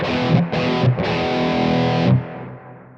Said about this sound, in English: You want that seriously overdriven sound.